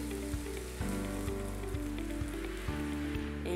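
Water poured over cassava pieces in a hot pot sets off a loud, continuous sizzling hiss that stays close and steady throughout, with a low electrical hum underneath and no talking.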